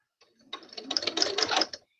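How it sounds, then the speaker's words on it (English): A sewing machine slowly stitches fabric for a curved quilt block, a steady quiet run of rapid mechanical ticking that starts softly, holds for about a second and stops. "I am simply going to slowly sew this together"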